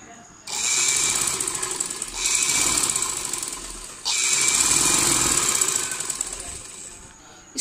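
A sewing machine stitching elastic onto a trouser waistband runs in three long loud bursts with brief pauses between them, a fast steady mechanical rattle heard close up.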